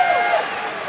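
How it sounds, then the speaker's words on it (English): Crowd applause at an NCAA men's basketball game between North Florida and Florida as a player checks in, a brief steady wash of clapping and arena noise with a faint squeak over it. "And a nice round of applause for 23"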